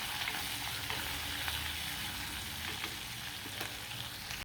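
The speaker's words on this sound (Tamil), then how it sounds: "இந்த வெங்காயத்தை இதில் போட்டு கொஞ்சம் எண்ணெயில் நல்லா வதக்கி எடுத்துக்கலாம்" Chopped onions sauté in oil and give off a steady, soft, continuous sizzle, with a few faint stirring scrapes and no voices.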